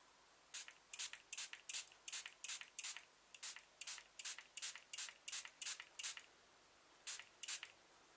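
A hand spray bottle spritzes water onto an aquatone pencil drawing in quick, faint, close puffs, roughly twenty short bursts in uneven bunches with a brief pause near the end.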